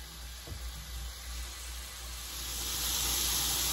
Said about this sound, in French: Là, je vais griller notre brochette.